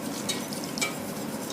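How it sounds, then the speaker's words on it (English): A spoon stirs sauce in a pan, making brief soft scraping strokes over a low continuous simmer, close and fairly quiet. "So just stir down below here."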